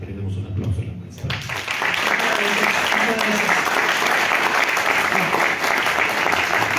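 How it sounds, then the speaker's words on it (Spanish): Audience applause at a Mexico City event on electoral justice, breaking out after about a second of talk and then holding as steady, dense clapping from a crowd. "quiero que le brindemos un aplauso a la maestra."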